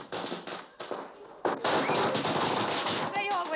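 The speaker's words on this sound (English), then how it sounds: "They always light firecrackers when I come home." Firecrackers going off in rapid, crackling bursts, loud and dense, with short gaps before a sustained barrage; a voice can be heard briefly amid the popping.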